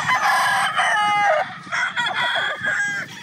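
A Sweater gamefowl rooster, an early bird line crossed with Cecil Hatch Gilmore, crows loudly and close by in several strained, warbling calls, with other birds clucking faintly in the background.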